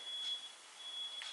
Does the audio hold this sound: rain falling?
no